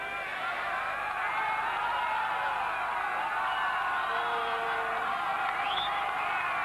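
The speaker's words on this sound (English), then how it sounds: "Crowd getting behind them" Football stadium crowd at the 1991 Copa América match between Argentina and Paraguay in Chile, a steady broad roar of many voices cheering throughout with occasional whistles rising above it.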